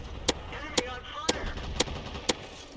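A tank gun fires in a World War II tank video game with a glitchy sound fault, giving six sharp, evenly spaced, clicky bangs about half a second apart, like a flipping Rolodex, over a low background rumble.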